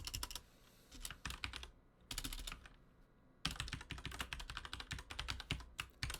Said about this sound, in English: I'm going to start kind of typing this stuff out while I'm waiting